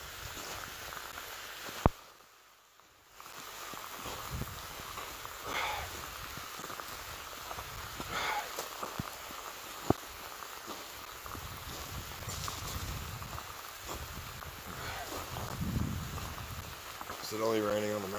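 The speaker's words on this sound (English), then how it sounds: "This rain's really, it's killing the audio." Rain patters steadily on a hiker climbing Mount Fuji toward a sunrise summit, close and constant on the microphone with occasional sharp taps, and faint voices underneath.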